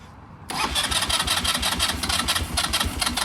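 An ATV with a very low idle and a weak fuel supply is hard to start. After a brief quiet moment the engine catches abruptly and runs loudly and unevenly at a rough, pulsing idle until the end.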